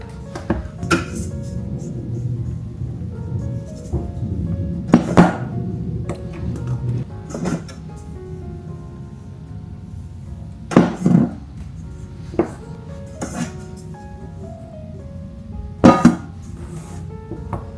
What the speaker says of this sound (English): I'm gonna continue to adding a little bit at a time and then mixing it up